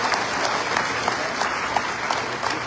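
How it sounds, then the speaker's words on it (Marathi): A crowd at a farmers' rally in Akola claps to welcome a guest, making dense, continuous applause that stays fairly loud and even throughout, with no clear speech. "टाळ्या वाजून त्यांचं या ठिकाणी स्वागत करा"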